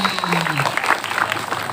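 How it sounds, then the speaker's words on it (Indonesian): Applause for a child at a Qur'an recitation event, a loud, dense crowd clapping throughout with voices mixed in. "Tepuk tangan untuk Muhammad Husairi."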